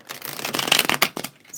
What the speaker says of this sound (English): I'm going to shuffle one more time just to see what we get.